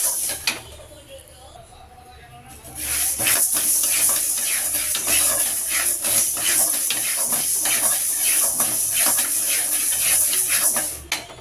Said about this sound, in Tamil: அரை கப்பு பாசிப்பருப்பு, அரை கப்பு உளுத்தம்பருப்பு எடுத்து வறுத்துட்டுருக்கோம்